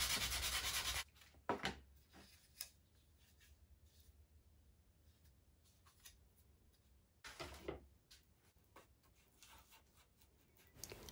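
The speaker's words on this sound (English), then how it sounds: "Then it was on to the job of sanding all the joints just to remove any glue squeeze out." Intermittent scratchy rubbing of sandpaper on teak, sanding glue squeeze-out from the joints of a photo frame, loud bursts at the start and again midway, with quieter scraping strokes in between and no talking.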